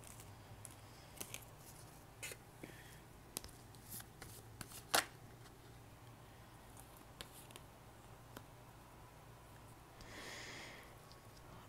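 Playing cards are shuffled, handled and drawn close by in a quiet room, giving soft riffles, flicks and snaps in scattered bursts, with a longer brushing shuffle near the end.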